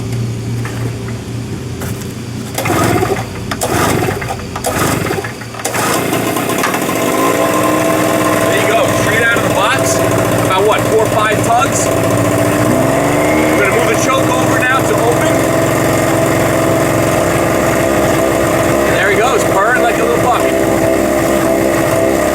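A small 63cc gasoline engine on a portable 800/900-watt Harbor Freight generator sputters with a few uneven bursts, then catches and keeps running with a steady, buzzing drone.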